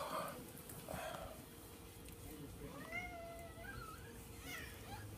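A cat having its nails clipped lets out a few faint, thin squeaks and short meows over a quiet room hum, with soft voices around it.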